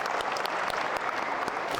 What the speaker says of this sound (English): There's a light clap for the chair of the Angling Trust.